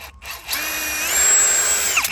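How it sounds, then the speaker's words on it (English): A power drill with a 5/16 inch bit spins up and bores a hole, its high whine steady and loud at close range for about two seconds after a brief trigger blip, with no talking. "So, I'm gonna use this 5/16 inch drill bit here."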